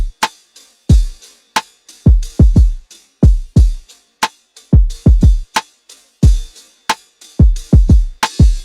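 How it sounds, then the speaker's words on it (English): A loud, dry drum pattern of just kick, snare and hi-hat plays alone, with punchy low kicks and sharp snare cracks in a swung, loping groove around 90 BPM. "I only have 3 drums in here. I have a kick, a snare, and a hi-hat."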